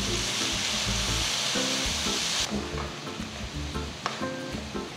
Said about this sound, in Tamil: அடுத்தது இப்போ நான் வந்து முட்டைகோஸை போட போகிறேன்